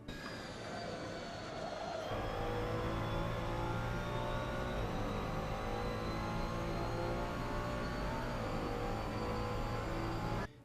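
Ferrari 296 GT3 race car engine in the Assetto Corsa racing game at the Barcelona GP circuit, rising steadily in pitch as it accelerates hard out of a corner, a loud continuous drone with climbing harmonic whine.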